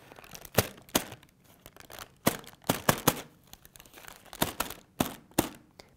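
A paper coffee filter is pulled taut and stretched for foley, giving close, sharp paper snaps and crinkling bursts in an irregular rhythm, some in quick pairs, with quiet gaps between.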